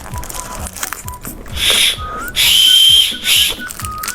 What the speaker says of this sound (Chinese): 这个是一个哨子糖